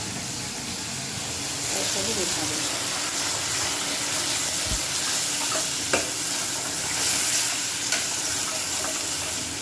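Mixed dal is tipped into a pan of hot liquid and stirred. A loud, continuous sizzle and bubbling runs throughout, with scraping strokes of the spoon and a few sharp clicks, while a voice sounds faintly in the background.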